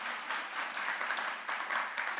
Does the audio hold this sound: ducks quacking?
no